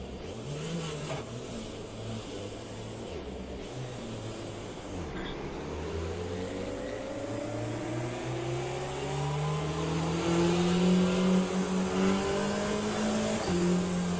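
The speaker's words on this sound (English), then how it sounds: "Are the cars taking off?" Race cars in Le Mans Ultimate rev and accelerate together off the start, engine notes rising in pitch and growing louder as the pack pulls away, with no voices.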